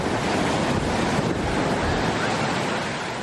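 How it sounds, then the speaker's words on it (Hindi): Sea waves surging and crashing in a steady, loud, broadband roar of surf and rushing water with a windy edge, continuous for the whole stretch with no voices. "समंदर का पानी जो कि इतना ज्यादा चारों तरफ शोर मचा रहा था"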